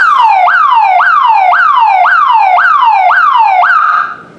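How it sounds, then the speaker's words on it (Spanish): A 50-watt neighborhood alarm siren wails loudly and close in a rapid rising sweep, repeated about eight times at a steady pace before cutting off at the end. "esta sirena es obviamente de más vatios, este es de 50 vatios"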